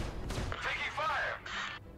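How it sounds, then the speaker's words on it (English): Incoming fire strikes a Xi'an Scout ship during flight in the space game Star Citizen: a quick cluster of sharp electronic bursts and whooshing impacts, fairly loud and close, over a low engine rumble. "Taking fire."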